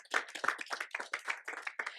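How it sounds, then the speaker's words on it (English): Audience at the Fearless Women Summit in St Lucia claps briefly, a quiet burst of uneven hand claps from a modest group, fairly distant, with no talking. "So give them a round of applause."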